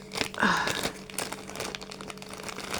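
Faint plastic crinkling and rustling, a sharper crackle near the start, then softer handling noises throughout.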